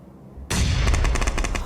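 A sudden, loud PUBG Mobile grenade blast breaks the quiet, followed by a rapid run of heavy rumbling, crackling pulses.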